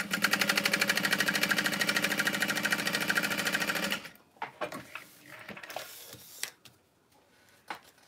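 A sewing machine runs in a steady rapid stitching burst for about four seconds while making a bowler bag, then stops, leaving faint handling clicks and shuffles.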